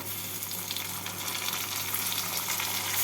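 Chopped tomato and onion are stirred and fried together in a pan, a continuous close sizzle over a low steady hum.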